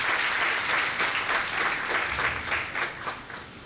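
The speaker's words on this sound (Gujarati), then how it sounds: "તાળીના ગડગડાટથી આપણે એમને વધાવીએ છીએ" An audience at a lecture-series event gives a sustained round of dense applause, many hands clapping steadily, then tapering slightly toward the end.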